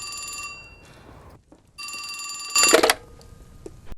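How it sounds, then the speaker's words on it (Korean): An old-style telephone bell rings in two loud, bright bursts with a pause between them. The call comes to a gold and silver shop in Jongno, Seoul, in 1928. "전화벨이 울립니다."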